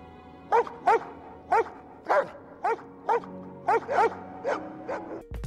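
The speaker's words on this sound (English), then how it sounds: "When living with humans, that translated to a lot of howling and vocalizations." A Siberian Husky gives a run of about ten short, evenly spaced yips and barks, close and fairly loud, with a faint whine between some calls and no talking.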